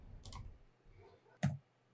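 Two separate key presses on a computer keyboard during 3D modelling work, each a soft, close click over quiet room tone with a gap between them.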